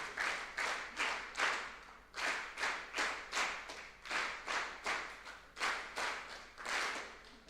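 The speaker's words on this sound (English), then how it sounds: "Clap harder and make sure that you are counting within yourself." An audience at an insurance brokers' conference in Mbarara, Uganda claps together in a steady rhythm, with repeated crisp bursts of hand claps in even groups, fairly faint and without talking.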